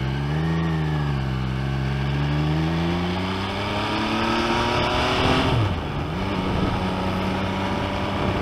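Motorcycle engine running steadily while riding near Chinese Camp, the pitch rising and falling with throttle changes and a dip and recovery near the end, loud and continuous.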